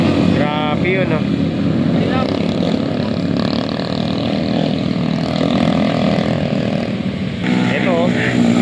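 Honda Click motorcycles pass by on the road with a loud engine roar and rising, falling whines that come and go. A person talks over the traffic.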